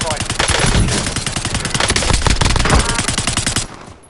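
Automatic weapon fire in the Warzone video game, a rapid sustained burst of loud close gunshots lasting about three and a half seconds before stopping abruptly.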